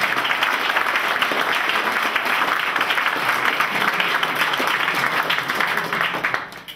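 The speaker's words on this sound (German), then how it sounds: "bitte um einen großen Applaus." Loud, continuous applause from a large keynote audience, a thick even wash of many hands clapping that stays strong throughout and tapers off only at the very end.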